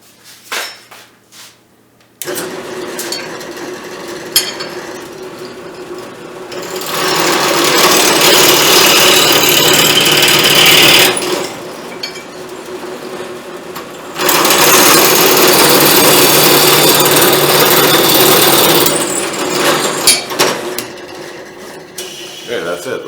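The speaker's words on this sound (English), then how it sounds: "So we'll take it over the drill press right now. We'll drill a hole." A drill press bores holes through a steel horseshoe. Two long, loud, steady whirring runs are separated by quieter handling clatter.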